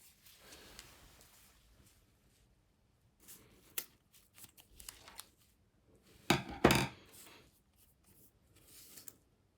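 Scissors snip through a zip while sewing a crochet bag, a few short, sharp cuts heard close by, quiet at first and then a louder burst of crunching snips near the end.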